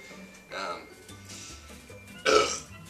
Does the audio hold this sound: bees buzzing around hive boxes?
no